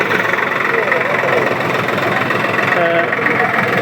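A tractor engine idles close by at a relief-supply delivery, with a steady low rumble and vibration, while people talk over it.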